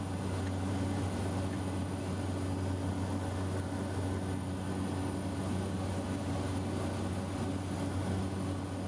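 Steady cabin drone of a Cessna Caravan in flight, a constant low hum and broadband rush with no break, moderately loud and continuous throughout.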